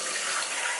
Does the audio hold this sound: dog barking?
no